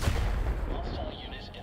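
Mjolnir strike attack in the roguelike deckbuilder Earthless, a heavy booming impact that opens loud and decays into a rumbling tail within a second or so.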